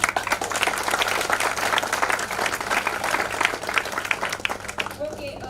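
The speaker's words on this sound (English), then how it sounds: "Guys, we can have a applause for Aditya." An audience at the Cloud Community Days Bhopal 2022 tech event claps for a speaker after a session, a close, sustained patter of applause that stays steady and tapers slightly at the end.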